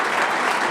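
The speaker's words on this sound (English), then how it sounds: "people can give you a round of applause" Dense crowd applause at a football head coach introduction press conference, a brief, loud, even burst of many people clapping with no voices over it.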